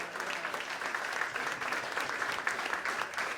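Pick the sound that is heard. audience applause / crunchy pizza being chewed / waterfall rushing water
audience applause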